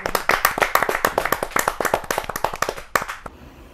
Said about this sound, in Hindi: जोरदार तालियों से स्वागत कीजिए वेद